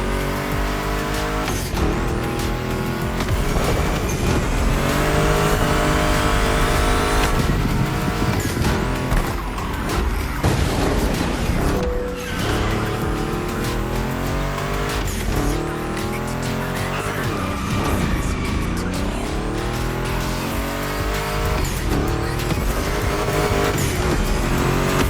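A Ford Mustang GT muscle car races in a video game, its engine roaring continuously with shifting revs and repeated sharp tire squeals and skids, loud and close throughout.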